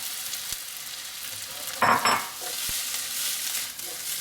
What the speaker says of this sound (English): Now I'm adding in there a cup and a half, say, of cold rice.